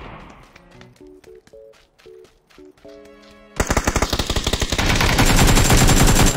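Automatic gunfire in PUBG, a long sustained burst of rapid, loud shots that starts abruptly after a quieter stretch of sparse, tonal game sounds.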